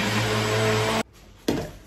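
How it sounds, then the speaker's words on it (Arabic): A blender mixing crème caramel with sugar whirs loudly and steadily for about a second, cuts off briefly, then starts up again and begins to wind down. "وبعدين نضربه تاني في الخلاط."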